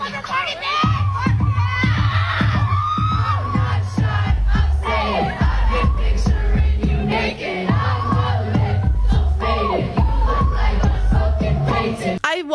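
A live concert crowd screams and shouts loudly and continuously around a singer's vocals, the dense roar of voices filling the recording without a break.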